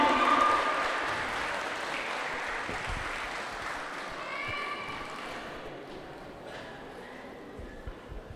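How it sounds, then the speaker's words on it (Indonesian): An audience at a church choir festival claps for the HKBP Sukatani choir, a broad wash of applause that starts loud and slowly fades over several seconds, with faint scattered noises at the end. "Tepuk tangannya sekali lagi untuk HKBP Sukatani."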